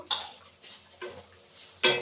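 Metal cooking pot of boiled jackfruit being lifted and set down on a stove, a few sharp clanks and scrapes spaced apart, close and fairly quiet, with no talk.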